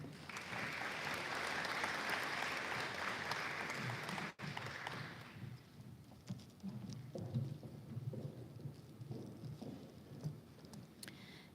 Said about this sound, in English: Please give us another round of applause and congratulations to all recipients.